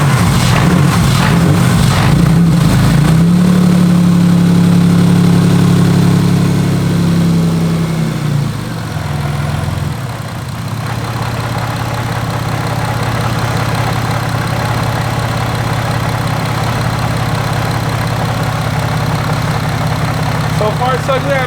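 A turbocharged car fitted with an aftermarket wastegate idles steadily while warming up before a test drive, a loud continuous engine drone that shifts pitch early on and then settles into an even idle hum.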